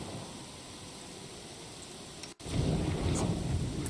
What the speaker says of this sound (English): before this rain turns to thunder and lightning